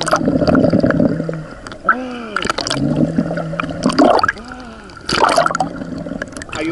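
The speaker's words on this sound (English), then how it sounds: "The first exercise is to be able to blow the bubbles from your nose so the water don't go inside your sinus" In a swimming lesson, a swimmer blows bubbles into pool water through the nose, producing bursts of bubbling and gurgling splashes between stretches of an instructor's speech.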